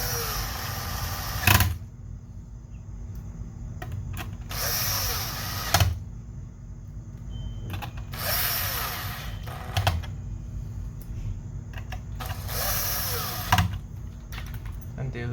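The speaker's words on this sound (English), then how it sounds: "we're just going to screw those in" Small screws driven into an Xbox Series S console with a T9 bit on a power driver, four short whirring bursts spaced a few seconds apart, each ending in a brief click, up close over a low background hum.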